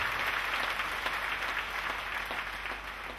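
Worshippers in a congregation applaud Jesus again at a preacher's urging, a continuous blend of many claps at moderate distance that eases off slightly toward the end.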